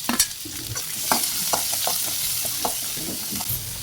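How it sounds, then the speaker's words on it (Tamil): Onion, curry leaves and chilli sautéing in a pan for wheat kanji, a continuous bright sizzle with intermittent scraping stirs, close and steady, no talking. "அடுத்து வந்து வெங்காயம், கருவேப்பிலை, மிளகாய் எல்லாமே போட்டு ஒரு 2 நிமிஷம் வதக்கிக்கலாம்."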